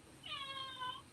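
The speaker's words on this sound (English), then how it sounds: "That's my cat." A house cat gives a single drawn-out, tonal meow, quiet and somewhat distant indoors, on its own with no talking over it.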